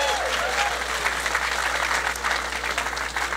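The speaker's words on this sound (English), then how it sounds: "Can everybody please give David Israel a big round of applause for the great introduction?" A large crowd at a President Obama rally in West Palm Beach claps steadily, a thick, continuous roar of applause with no break.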